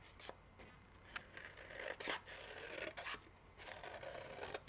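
Scissors snip through a paper card picture in quick, irregular cuts, soft crisp rasps and slices close by, with the rustle of paper being turned between strokes.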